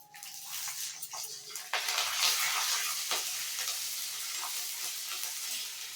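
Curry leaves drop into hot oil where dal is frying for sago upma, setting off a loud, crackling sizzle with sharp spits and pops that carries on throughout.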